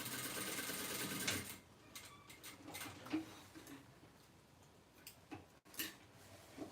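Sewing machine backstitching along a strap on a fabric ecobag made from reused cloth, a steady close whir broken into short bursts and pauses with small clicks between runs.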